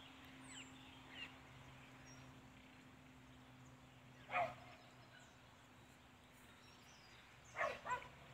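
A dog barks far off, a few faint, separate barks rising briefly over a quiet outdoor hush with a low steady hum.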